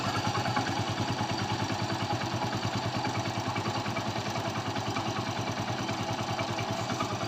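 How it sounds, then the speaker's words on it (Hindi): A 110 cc motorcycle engine, just refitted, idles steadily and close by, its low rhythmic thump overlaid with a fast, dry ticking rattle from the valve tappets. "इंजन की जो आवाज़ है दोस्तों वो यानी कि अभी आ रही है टैपिट से किरकिराहट जैसा"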